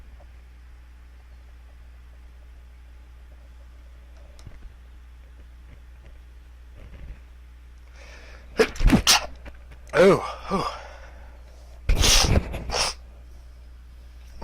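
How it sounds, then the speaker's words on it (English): Two or three loud, sharp sneezes close to the microphone amid quiet room noise, with a person speaking briefly around them. "Ooh, big ol' sneeze."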